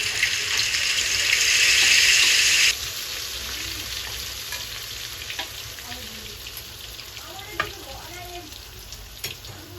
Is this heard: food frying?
yes